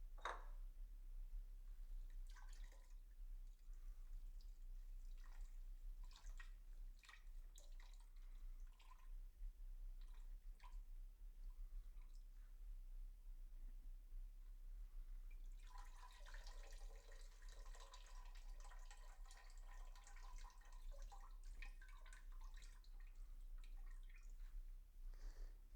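Fruit bags from a batch of honeydew melon wine drain liquid steadily, faint scattered drips and trickles close by that turn into a brief denser splashing patter late on, in an otherwise quiet room.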